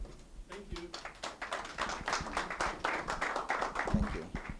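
Audience applause at a conference on Ghana's investment climate: a moderate room of hands clapping steadily for several seconds, somewhat distant and even, with brief talk underneath.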